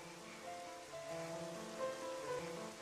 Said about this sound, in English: I really like the rain effects in this game, by the way.